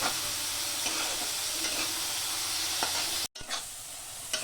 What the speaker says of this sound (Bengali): এটার মধ্যে শুটকি মাছ মানে ড্রাই ফিশ দিয়ে ফ্রাই করা হচ্ছে।